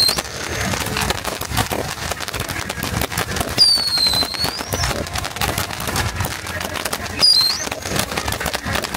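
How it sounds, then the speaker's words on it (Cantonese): A fireworks display is seen from a yacht off Busan in the rain, with dense crackling bursts, two whistling rising shells and steady rainfall noise, while people talk and exclaim nearby. "落雨睇煙花啦！"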